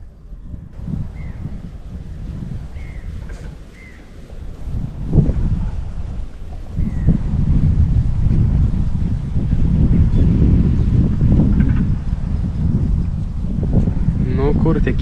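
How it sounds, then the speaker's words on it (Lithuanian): A fishermen's boat moving along the water near a new shoreline, its low engine rumble growing steadily louder under wind noise and lapping water, with people talking over it. "Žvejai matau, su valtim važiuoja."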